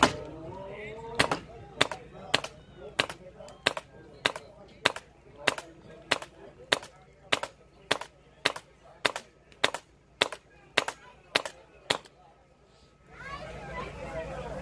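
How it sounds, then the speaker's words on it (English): A GI Sportz magfed paintball marker fires GI Sportz magfed-only paint in a steady string of about nineteen sharp, loud shots spaced under a second apart, followed by a brief stretch of ambient noise. "now we're going to shoot it with a different gun just so you guys can see what's going on with this"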